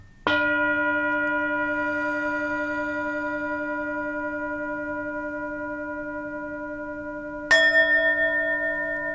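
A low-pitched meditation bell is struck and rings long with a rich humming sustain, then a second strike lands near the end, both heard alone.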